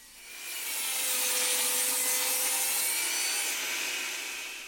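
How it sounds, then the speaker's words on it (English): A table saw rips wood lengthwise into 22 mm strips for a clothes airer, a loud, steady whining cut that swells in and holds for several seconds before easing off, with no talking. "I can now set up the fence to rip these down into strips"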